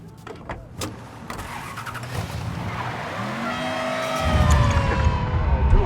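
A car's engine starts and revs in the video game Mafia III, rising into a steady, loud roar with tire noise building toward the end.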